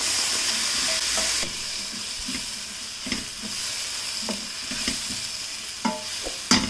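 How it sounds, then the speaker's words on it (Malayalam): A sauce of chili sauce and tomato ketchup stirred in a pan for kids' spaghetti, a steady sizzle with intermittent scraping strokes and a few sharper knocks toward the end, close and alone. "ഒന്ന് ഇളക്കി കൊടുക്കണം."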